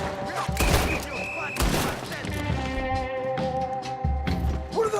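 Gunfire in Red Dead Redemption 2, a fusillade of overlapping gunshots and booming thuds, loud and close at first, then scattered shots continuing under a voice and tonal background music.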